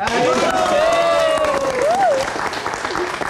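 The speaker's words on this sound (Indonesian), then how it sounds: "Mana tepuk tangannya?" Crowd applause at an Indonesian comedy show, loud and continuous, with a sustained voice line gliding above the clapping through most of it.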